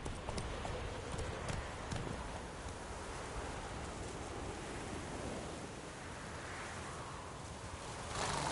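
Roach, a horse in The Witcher 3, gallops in steady rapid hoofbeats over a soft wash of ambient game noise, with no talk.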